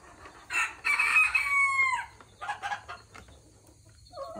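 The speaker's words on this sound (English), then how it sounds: "That's Napoleon crowing in the background. He's my rooster." A rooster crows once in the background on a farm morning, a rising then falling call lasting about a second and a half, followed by a few softer clucks and bird noises; no talking.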